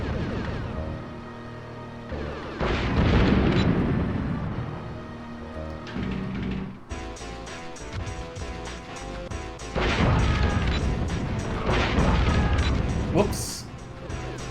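Missile launcher shots and blasts in the video game Daikatana 64, heavy booming explosions that come in repeated loud bursts over game music, close and crashing.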